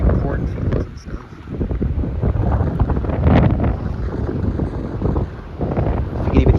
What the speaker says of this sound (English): You can even hear me over the wind.